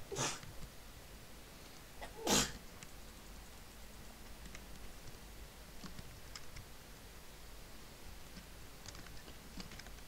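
Two sharp sneezes, one right at the start and a louder one a couple of seconds later, over faint keyboard clicking and quiet room noise.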